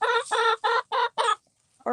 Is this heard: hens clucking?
yes